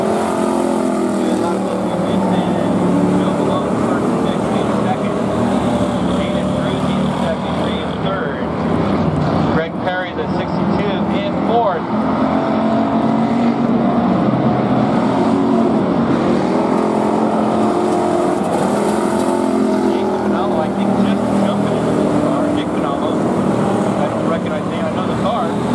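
Pure stock race cars circle the oval at Barona Speedway, a steady loud roar of engines running throughout, with a track announcer talking over the racing.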